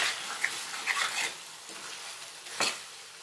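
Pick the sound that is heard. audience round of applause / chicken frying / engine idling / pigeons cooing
chicken frying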